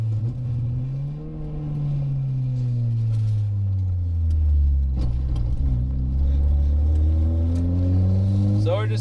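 A Ford Mustang cruises along with a deep, steady engine rumble that rises and falls in pitch through gear changes, loud and close from inside the car, with occasional talk.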